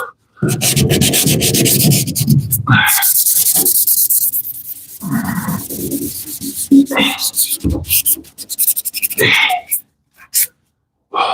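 A brand-new car floor pan is hand-sanded before epoxy in loud, rough scraping strokes with short pauses, in a shop with a few brief voices.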